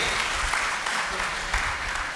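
Audience clapping at an Uppara community bride-and-groom matchmaking gathering in Karnataka, a steady dense round of applause from a crowd sustained for the whole stretch without a break.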